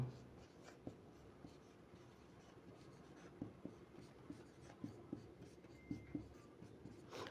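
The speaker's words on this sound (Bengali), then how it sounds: "আমি লিখে দিচ্ছি" Handwriting with a pen or chalk as a formula is written out during a finance lesson: a run of faint, close scratchy strokes and taps at an uneven rhythm, with quiet room tone behind.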